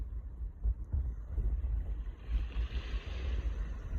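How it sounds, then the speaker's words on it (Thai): Ocean waves wash and churn steadily with low rumbling surf and some wind buffeting the microphone, no voices. "เสียงคลื่น"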